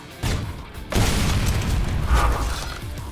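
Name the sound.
Torque Bow grenade crossbow firing in Gears of War video game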